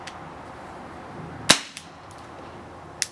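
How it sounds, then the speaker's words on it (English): An Umarex Smith & Wesson M&P 45 CO2 airgun fires BBs: one sharp, loud crack near the middle is followed by a faint click and another shorter pop near the end, with quiet room tone between. "we're going to shoot 8 rounds using BBs."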